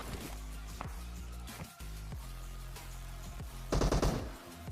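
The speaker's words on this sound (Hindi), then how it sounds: "अभी जो है इधर की तरफ से भी भाई कुछ गन साउंड आ रहे थे" Gunfire rattles through a battle royale game in rapid automatic bursts, punctuated by sharp single shots and a loud, dense volley near the end, over a steady low engine-like hum.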